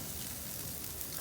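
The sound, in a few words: pork ribs sizzling on Old Smokey grill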